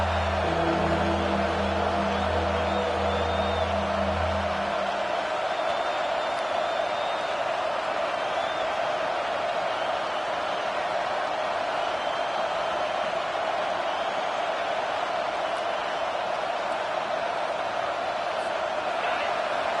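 A home crowd roars steadily through a video game football match on a third down, a dense continuous wash of cheering with low tonal rumble fading after the first few seconds.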